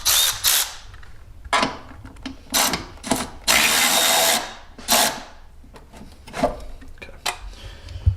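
Ratcheting and wrench work loosening a battery terminal on a Toyota 4Runner, a string of short clicking, grinding mechanical bursts up close with pauses between, no talking.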